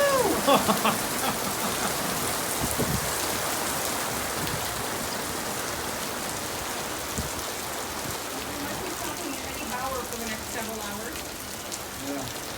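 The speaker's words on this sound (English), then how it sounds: "Okay, so it's raining." Steady rain pattering on a hard surface, a dense constant hiss with scattered drops, close by and continuous, without speech.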